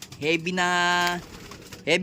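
A pigeon's long, droning coo rises and holds for about a second, then fades; another short coo starts at the end, close and clear.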